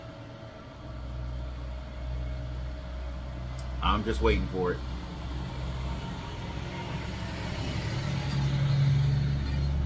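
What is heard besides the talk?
school bus driving past outside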